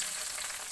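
Onions sizzle and crackle in hot oil in a kadai over a clay stove, with cardamom, cinnamon and bay leaf in the pan; a steady, close, dense frying hiss with no talk.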